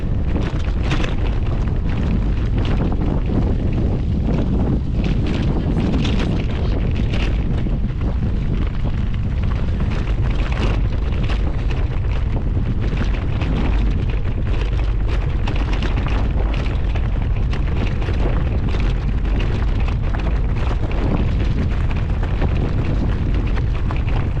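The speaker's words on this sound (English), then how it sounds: "Right down the end, right where the wind's blowing." Strong wind roars continuously and loudly while cycling in Iceland, a dense, buffeting rush with heavy low-end gusting throughout and no voices.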